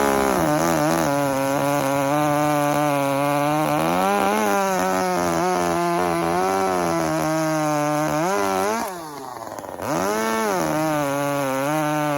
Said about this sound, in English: It is a powerful saw.